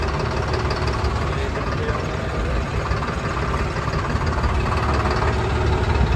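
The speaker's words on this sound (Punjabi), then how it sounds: "ਅਤੇ ਆਪਣੇ ਟਰੈਕਟਰ ਜਾਂਦੇ ਨੇ ਆਹ ਲਾਈਨ 'ਚ" Tractors idle in a line at a farmers' tractor march, giving a dense, steady diesel rumble with knocking vibration that fills the whole clip, while people talk nearby.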